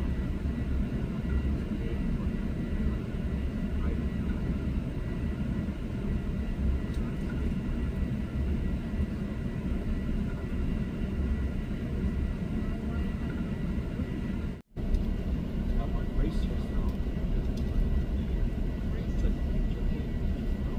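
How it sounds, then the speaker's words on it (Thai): Steady, loud cabin rumble of an Asiana Airlines airliner taxiing toward the runway before takeoff at LAX, heard from inside as a continuous engine drone with a brief dropout near the end. "เครื่องบินก็มาถึงรันเวย์แล้วครับกำลังจะเทคออฟแล้ว"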